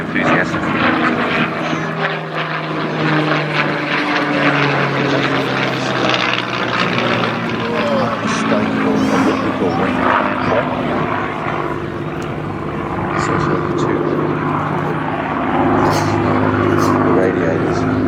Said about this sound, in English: 2 actual planes that we're seeing now, the actual planes.